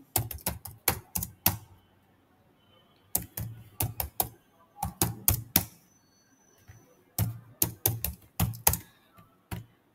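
Names being typed on a computer keyboard into an MS Excel sheet: close, crisp key clicks in quick bursts of several strokes, separated by short pauses, with no talking.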